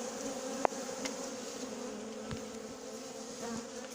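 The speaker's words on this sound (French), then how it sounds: "on voit qu'il y a quelques abeilles qui volent" Honeybees fly around a hive being set up with a newly installed colony, a steady buzzing drone with individual bees whizzing past close by, quiet and outdoors.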